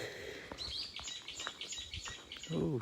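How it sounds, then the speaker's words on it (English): Birds chirp and tweet along a lakeside nature trail, a scatter of short, high calls at moderate distance, with a brief voice near the end. "A lot of birds out here, just hard to spot them. You can hear them."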